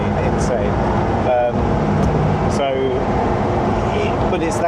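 A 1,360hp Koenigsegg Agera N hypercar drives under power, its engine and road noise forming a steady loud drone inside the cabin, with voices talking over it.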